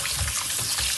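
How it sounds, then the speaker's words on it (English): Tap water runs in a strong, close, continuous splash as fish is rinsed clean in a kitchen sink, with no talk over the gushing stream. "Go wash your fish, clean it up, guys."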